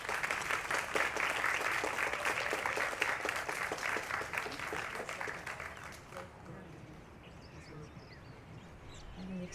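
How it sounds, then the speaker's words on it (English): Crowd at an International Yoga Day event applauding a senator, loud sustained clapping for about six seconds that then fades to quieter room ambience with faint chatter. "please give me a big hand and let's give her some nice applause, our Senator Sharon Maruaki"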